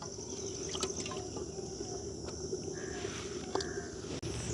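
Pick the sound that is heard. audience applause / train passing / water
water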